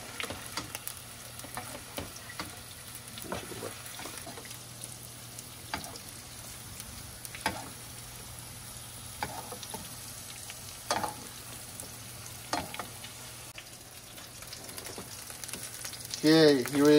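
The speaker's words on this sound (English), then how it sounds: "we're gonna cook these until they are brown, nice and brown on both sides" Scallops searing in butter in a pan give a steady, faint crackling sizzle with scattered small pops throughout, growing a little louder at the very end.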